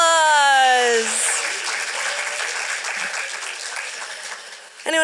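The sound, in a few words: applause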